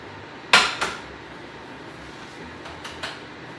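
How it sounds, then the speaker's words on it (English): A Spanish omelette is flipped in a pan: a sharp metallic clank of the pan followed by a lighter knock, then two softer clatters a couple of seconds later, over a faint steady kitchen hum. "to flip again the omelette"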